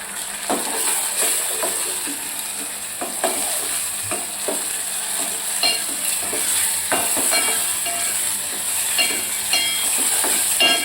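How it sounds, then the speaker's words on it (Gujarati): Finely chopped tomato fries in a pan for a traditional Gujarati moth bean curry, with a bright, constant sizzle under repeated close scrapes and clicks of a spoon stirring against the pan. "હવે આપણે 1 ટામેટું નાખીશું, એ પણ એકદમ ઝીણું સમારેલું છે."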